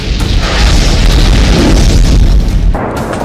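A loud, sustained boom rumbles with heavy low-end from a bombing at the Zaporizhzhia nuclear power plant in Ukraine, the blast noise filling the whole stretch before easing slightly near the end.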